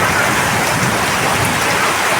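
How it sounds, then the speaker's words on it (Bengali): Heavy rain pours down steadily and loudly in a violent thunderstorm, a dense unbroken roar close by with a low rumble beneath. "আমার দেখা লাইফের সবচেয়ে ভয়ানক ঝড় এটা।"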